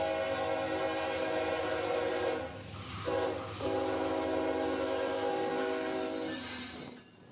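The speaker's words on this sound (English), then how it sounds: "I hear a horn off in the distance and know the train is getting close." A CSX freight train, Q541, sounds a long, loud, sustained horn near a rail tunnel on the old L&N CC subdivision, broken by two brief gaps over a steady rumble, then fading out.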